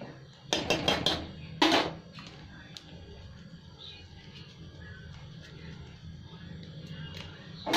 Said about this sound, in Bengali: এবার আমি ঢাকা দিলাম।